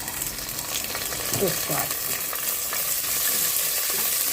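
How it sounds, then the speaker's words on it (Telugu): Onions, green chillies and curry leaves fry in a hot tempering for dosakaya pappu, with a steady sizzle and a few stirring scrapes under a voice. "పోపులు బాగా తాలింపు అయిపోయిన తర్వాత ఉల్లిపాయలు, పచ్చిమిరపకాయలు వేసుకోవాలి."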